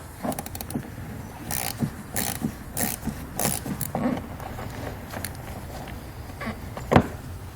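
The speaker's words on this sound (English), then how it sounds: "So we'll grab that T25 Torx bit from earlier, and using a small driver will make it easier because of the limited space." A small driver with a T25 Torx bit works screws loose in a cramped wheel well during a hidden trailer hitch install on a 2016 vehicle, giving intermittent ratcheting clicks and metallic scrapes, with a sharp clack near the end.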